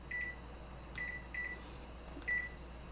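Kitchen timer on a stovetop pasta setup beeps four times in short, separate electronic tones while being set, near and clear over a low steady hum.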